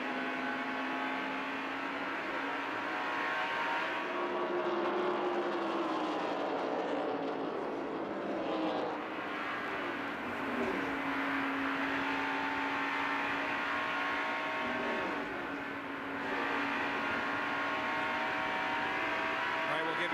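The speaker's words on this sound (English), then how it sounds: "listen to the points that the driver has to get off the accelerator" A NASCAR race car engine at Darlington Raceway in 1989, heard from an in-car camera, roars loud and continuous, its pitch dipping as the driver lifts off the accelerator and then climbing again.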